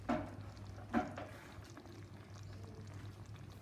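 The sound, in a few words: pouring hot water from a kettle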